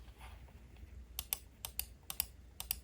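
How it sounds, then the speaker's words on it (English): The right button of a Logitech MX Master 3S mouse clicks softly and repeatedly, about a dozen light ticks in loose pairs over a quiet background. "and the right click."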